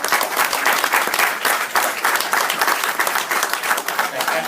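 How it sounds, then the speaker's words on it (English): Sustained audience applause at a show-jumping grand prix press conference, many hands clapping in a dense, fairly loud, slightly pulsing wash that holds steady throughout. "owe Jeanette and her team a great, round of applause"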